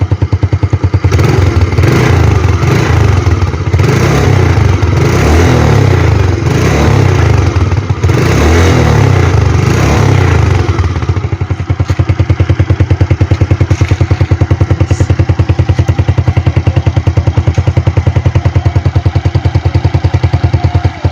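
Suzuki Smash motorcycle with a modified, drilled stock exhaust pipe revving hard, a loud close rasping engine with throttle blips and clatter for the first half, then a steady pulsing idle-like drone.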